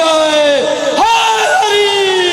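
A crowd at a majlis gathering chants a religious slogan in unison, a loud sustained collective shout with rising and falling pitch that fills the whole moment.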